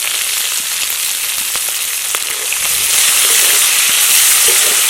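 Chopped onion and slit green chilli sizzle steadily in hot oil for a village-style Malabar spinach dish, a dense continuous frying hiss that grows a little louder toward the end, with no talking.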